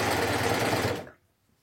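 A Baby Lock Ovation overlocker sews a Japanese hem with a steady, close motor whir that runs for about a second, then cuts off into silence.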